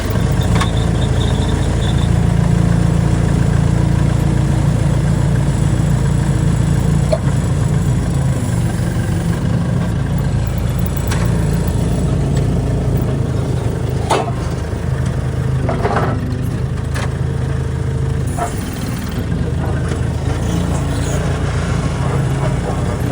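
A forklift engine runs steadily at idle throughout, a loud continuous low rumble with a few brief clanks and knocks over it in an equipment yard.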